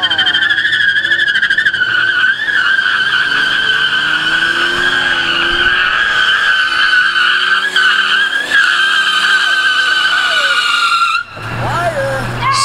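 Car tires spin and squeal on concrete in a skatepark, a loud, sustained screech with wavering pitch that lasts about eleven seconds and then cuts off into a low engine rumble, with voices faintly underneath.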